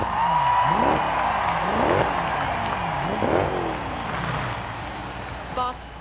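A car engine in the video game Forza Horizon 3 revs repeatedly, rising and falling in pitch several times in a steady cycle, loud and close, with a brief electronic tone near the end.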